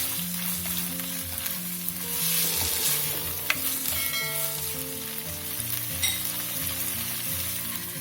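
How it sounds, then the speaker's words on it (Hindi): Minced meat stir-fried with soy sauce for keema macaroni, a continuous moderate sizzle with occasional spoon clinks and scraping against the pan throughout. "अब इनको अच्छे से मिक्स करके भून लेंगे।"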